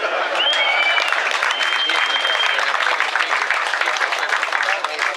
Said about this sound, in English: I need an applause for that.